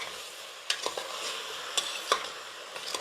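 Chopped chicken is stirred in a pan, with sharp spoon scrapes at irregular intervals over a faint steady sizzle, close up and with no talk.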